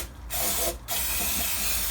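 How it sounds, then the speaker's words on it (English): Brake and clutch cleaner sprayed onto a dusty classic Mini Clubman engine surface, two short hissing bursts followed by a longer continuous spray, close and loud with no talk. "I'm just going to clean this surface up with a bit of brake and clutch cleaner"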